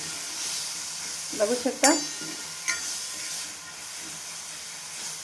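Turmeric sizzles in hot oil in a pan, a steady hiss and frying crackle heard close up, with a few louder stirring scrapes partway through and a brief spoken remark.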